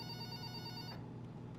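A mobile phone rings steadily and continuously at a moderate level, its bright ringtone filling the moment with no voices, then cuts off partway through.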